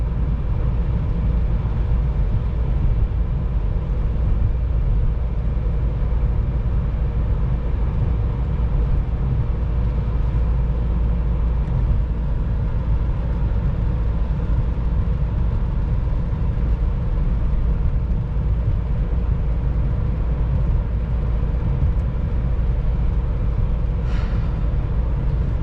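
Summer tires with their compound hardened by cold weather hum against the road inside a moving car, a steady, loud, low rumbling drone with no breaks, heard from within the cabin.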